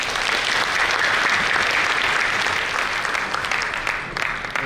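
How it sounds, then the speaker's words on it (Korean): An audience at a bank's economic outlook seminar gives sustained, even applause that fills the room for several seconds before tapering slightly at the end. "큰 박수"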